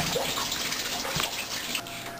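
Shower water runs steadily as a broad, even hiss close by, with a brief thicker splash about halfway through and no voices.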